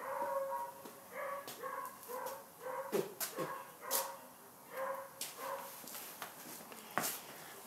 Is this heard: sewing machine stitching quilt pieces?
no